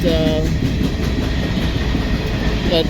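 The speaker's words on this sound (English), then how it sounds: "freight that was sitting there, mixed freight, finally moved." A mixed freight train rolls past close by on a Chicago-area line, producing a loud, steady rumble with rhythmic clickety-clack from the wheels throughout.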